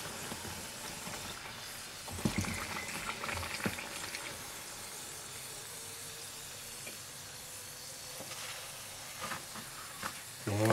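Bokit bread dough frying in hot oil, a steady bubbling sizzle and hiss throughout with a few scraping stirs and clinks of a utensil.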